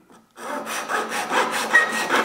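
A handsaw trims the ends of edge banding on chipboard, with quick, close, rhythmic rasping strokes and no talking.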